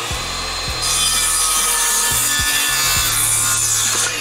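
A worm drive circular saw ripping through wood on a timber-frame house build, loud and close, a sustained high whine with rough grinding of the blade through the cut and no speech.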